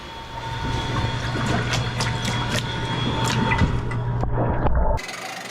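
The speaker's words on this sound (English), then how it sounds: "The only noise is the water being blasted out of the rear jet pump." Electric jet ski's rear jet pump blasting water while strapped down in a large underwater test tank, a steady loud rushing churn with continuous low hum, cutting off abruptly near the end.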